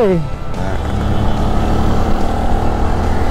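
A Yamaha PG1 motorcycle engine revs up and accelerates nearby, a steady loud drone with rising pitch at the start.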